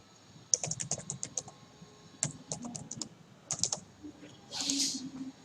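Code typed on a computer keyboard in short bursts of crisp, close key clicks separated by pauses, with a brief louder rustle near the end.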